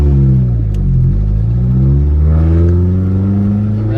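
An Audi A4 1.8T with a catless test pipe and full straight pipe exhaust accelerates hard, its loud, raw engine note climbing steadily in pitch, close and alone.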